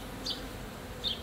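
Honeybees humming around an open hive during a relocation, a faint steady drone with two brief closer buzzes as individual bees pass near.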